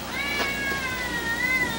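A Bengal cat, a domestic and leopard cat hybrid, gives a drawn-out, wavering meow that holds steady for nearly two seconds, close and clear against a quiet background.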